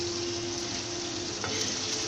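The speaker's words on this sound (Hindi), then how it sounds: "अब मैं इसको फुल हीट पे आलू को थोड़ा ऑयल में फ्राई करूँगी।" Potatoes fry in oil over full heat, a steady, even sizzle close by, with a brief clink near the end and no voices.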